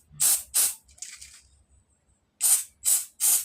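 Anti-rust spray is applied in short bursts to the springs of a stuck electric fan selector switch: two quick hisses, a pause with faint handling and rattling, then three more close, loud sprays.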